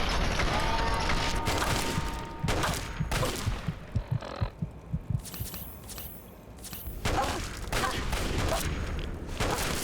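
Gunfire in Fallout 3 rings out as rapid bursts and a run of evenly spaced, punchy shots, loud and close over a steady in-game hum, with a pause before firing resumes.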